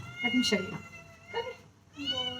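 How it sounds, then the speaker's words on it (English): A pet cat in a home kitchen gives a couple of short meows close by, mixed in with a person speaking softly to it. "See, this is my cat."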